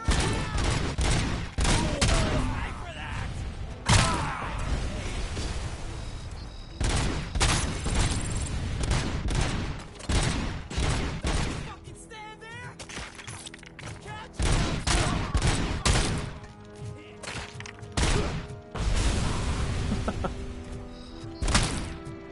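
Rapid bursts of gunfire and heavy grenade blasts from a PS5 shooter game come in loud clustered volleys, separated by brief quieter gaps.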